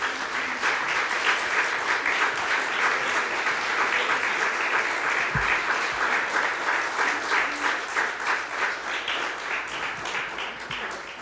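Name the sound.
church congregation applause for the Lord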